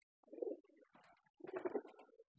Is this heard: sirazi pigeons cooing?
yes